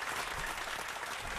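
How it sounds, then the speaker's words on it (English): Studio audience applause during a freestyle rap reaction show, a dense, steady wash of clapping that stays loud and even throughout, with no voices rising above it. "keep them applause going right there"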